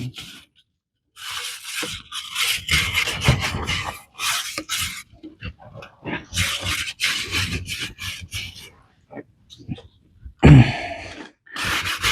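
Bursts of close scraping and rasping on a wood stove part, irregular strokes separated by short pauses, with a brief thump near the end.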